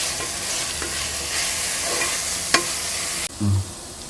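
Ginger, garlic and whole mint leaves sautéing in a pan, a steady close sizzle with stirring and one sharp utensil clink before the frying noise abruptly drops off.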